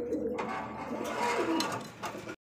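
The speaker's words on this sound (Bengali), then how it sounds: "এটা সিরাজি কবুতর" Sirazi pigeons coo in low, throaty bursts at close range amid a busy loft, with fainter calls and rustling throughout.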